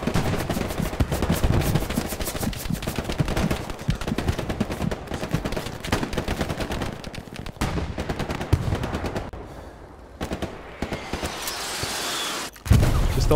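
Gunfire in the Hell Let Loose World War II shooter, with rapid bursts of automatic and rifle shots cracking close and loud in quick succession, a few sharper blasts near the end and no talk.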